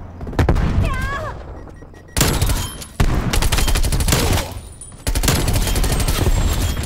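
Groza assault rifle in Call of Duty: Black Ops Cold War firing in rapid automatic bursts, loud and close, several sustained volleys separated by brief pauses, with a voice briefly heard early on.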